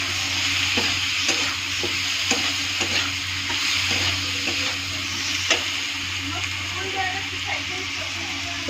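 Spices frying with turmeric powder and salt in a pan, stirred with a utensil: steady sizzle with repeated scraping strokes close by, a faint low hum underneath.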